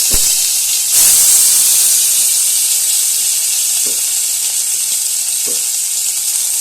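Soaked tomatoes hit hot oil in a pan and let out a loud, bright, steady sizzle that swells sharply at the drop and keeps hissing, with a couple of soft clinks of utensils against the pan.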